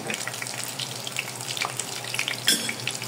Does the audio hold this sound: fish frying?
yes